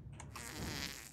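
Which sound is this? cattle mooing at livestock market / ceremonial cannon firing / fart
fart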